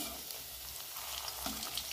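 Chira pakoras turn over in a kadai of hot oil with a continuous, close bubbling sizzle and light crackling, plus a faint scrape of stirring and no speech.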